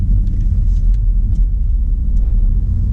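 A car drives westbound on US 2 through a small northern Wisconsin town, giving a steady, loud low road rumble and engine drone with faint tire noise and no talking.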